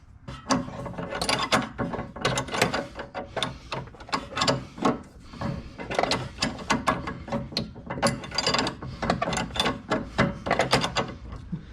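A wrench ratchets on the strut bolt of a Jeep Renegade during a 2-inch lift install, with steady repeated clicking strokes that run close and loud throughout, with no talk.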